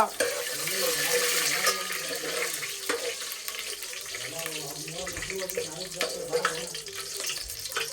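Pulao ingredients crackle and splutter in a hot pan with a steady hissing sizzle, fairly close, while people talk over the cooking noise.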